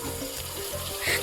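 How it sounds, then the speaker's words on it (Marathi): Tap water runs steadily into a large metal pot for chicken biryani cooked over a wood-fired stove, a close, continuous splashing stream that swells slightly near the end. "पाणी भरते"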